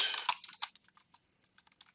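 Rapid typing on a computer keyboard bought two days earlier, a dense flurry of close clicks at first that thins into scattered, quieter keystrokes.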